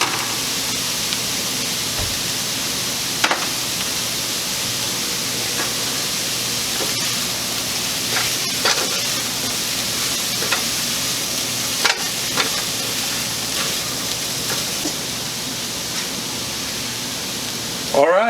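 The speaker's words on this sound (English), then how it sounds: "I'm going to start to stir that in." Food sizzles steadily in a hot pan while being stirred, a continuous frying hiss broken by occasional scrapes and clinks of the utensil against the pan.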